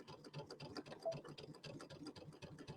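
A sewing machine stitches through fabric while sewing down and backstitching on a quilted piece, giving a steady, fast, quiet mechanical ticking and whirring.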